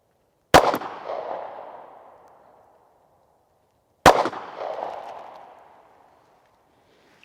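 Pistol shots from a Springfield Hellcat at an outdoor range: two loud, sharp cracks about 3.5 seconds apart, each followed by a long, fading echo, with silence between.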